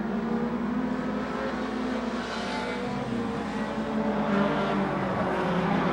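Race car engines roar and rev continuously in Super Short Track Racing, a loud sustained multi-car drone with rising accelerations and no pauses.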